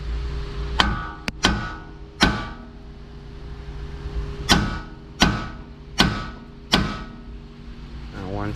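A hammer knocks on the front hub assembly of a Nissan Altima, about eight sharp metallic strikes at uneven intervals, close and distinct, with a low background hum.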